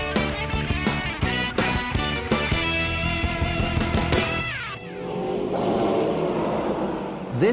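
A Saleen S7, an American production supercar, revs hard with rapid throttle blips and rising engine pitch, then drops into a lower rumbling idle that builds again, close and loud.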